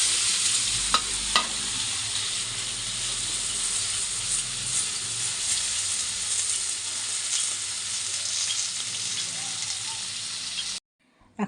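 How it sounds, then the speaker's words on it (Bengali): Paneer frying in hot salted oil, a steady loud sizzle running nearly eleven seconds with a couple of brief scraping clicks near the start, then cutting out abruptly at the end. "প্রথমে পনিরগুলোকে ভেজে নেব"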